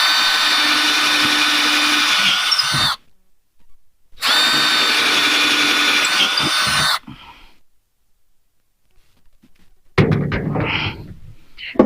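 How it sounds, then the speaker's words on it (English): A power drill whirs loudly in a shed in two steady bursts of about three seconds each, separated by silence, followed by softer clattering handling noises. "We used a drill,"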